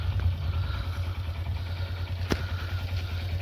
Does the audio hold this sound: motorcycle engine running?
yes